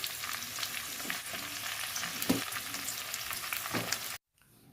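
Vegetables sizzle and fry loudly in a pan, hard ones first and then soft ones with salt, while a utensil stirs and scrapes through them in occasional strokes before the sound cuts off abruptly near the end.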